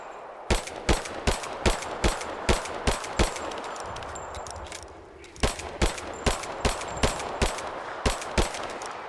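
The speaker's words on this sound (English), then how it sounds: "Celebratory fire." Repeated gunfire in Rise of the Tomb Raider, a steady run of sharp shots fired in celebration, loud and evenly spaced, pausing briefly midway before resuming at the same pace.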